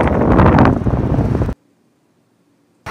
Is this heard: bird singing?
no